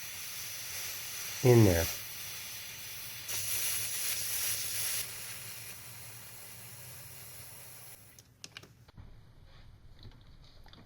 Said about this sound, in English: I'm going to very gently press on this Schrader valve, right? Look at that. Look at all that pressure that's still